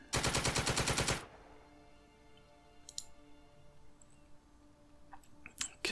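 A rapid automatic burst of game gunfire in Second Front, a Panzer Division river crossing battle, loud and close for about a second, then fading into quiet ambience with faint clicks and a few small later pops.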